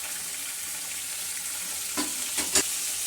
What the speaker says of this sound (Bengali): তো এভাবে করে ভালো করে সবগুলোকে ভেজে নিতে হবে।